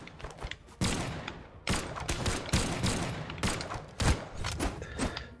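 Rapid bursts of gunfire from the fighting video game Brawlhalla, loud, dense volleys arriving in several clusters one after another.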